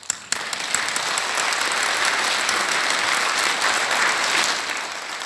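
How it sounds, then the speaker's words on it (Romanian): A Focșani audience applauds continuously and fairly loudly, a dense steady wash of many hands that starts abruptly and holds through to the end with no voices over it. "vă aplaud și eu"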